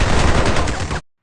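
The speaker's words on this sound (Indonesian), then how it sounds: "aksi tembak-tembakan ala koboi pun terjadi." A cowboy-style shootout in an action film erupts as a loud, dense burst of rapid gunfire lasting about a second, then cuts abruptly to silence.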